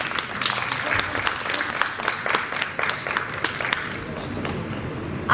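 Scattered applause from a conference audience, individual claps standing out in an uneven rhythm with a faint murmur of voices beneath, tapering off toward the end.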